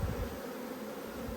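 Honey bees buzz steadily around an open hive while it is being shut down for winter, a close, continuous hum with no voices over it.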